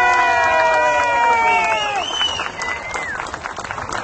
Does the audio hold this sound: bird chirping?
no